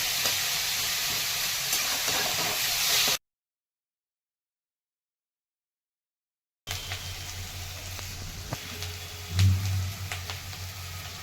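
Chopped onions sautéing with salt in a pan for egg bhurji give a steady broadband sizzle, cut by a few seconds of silence, then resume with a soft low knock or stir.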